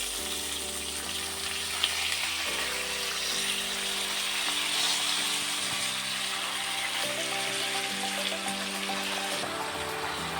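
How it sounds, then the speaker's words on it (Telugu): Spinach going into a pan of cashews for palak paneer fries over a medium flame with a constant soft sizzle and hiss, while steady tonal background music plays underneath. "ఇప్పుడు ఇందులో పాలాకుని యాడ్ చేసుకోండి."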